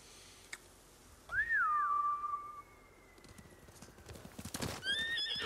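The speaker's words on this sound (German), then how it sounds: "Die Hunde haben die Pferde verjagt. Das sind Samurai-Rösser." Samurai horses in the video game Ghost of Tsushima let out a loud, whinnying neigh that rises and trails off, followed by quieter hoof clip-clops and another short whinny near the end, over soft background ambience.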